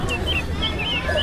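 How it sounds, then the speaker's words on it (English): A hen clucks in short, bright, rising-and-falling calls, several in quick succession over a low background hum, moderately close. "H for hen."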